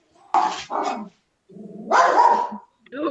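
Several dogs bark outdoors at a home where sheep are kept, loud and close, in a couple of bursts with a brief pause between them.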